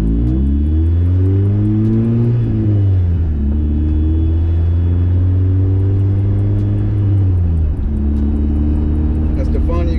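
Steady engine and exhaust drone from a 1993 Mazda Miata NA with a manual gearbox while driving, a loud low hum that rises and falls with shifts and revs, heard from inside the car.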